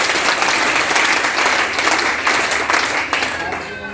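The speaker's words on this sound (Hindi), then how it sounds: "मैं चाहूँगा उनके लिए जोरदार तालियों से मिलकर" Loud, continuous applause from an audience at a women's entrepreneurship development training event, thick, even clapping carrying through the whole stretch before tapering slightly at the end.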